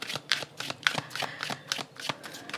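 Tarot cards being shuffled by hand, a series of quick riffling bursts in an uneven rhythm, close and fairly quiet with no talking.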